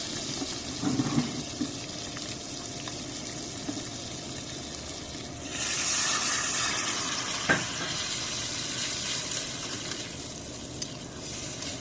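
Broth goes into a pan of koi fish curry, turning a steady frying sizzle into a brighter, louder hiss of liquid meeting hot oil that settles back into a continuous bubbling simmer.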